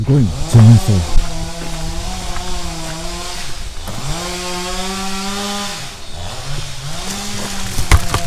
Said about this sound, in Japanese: すごいな、チェーンソー。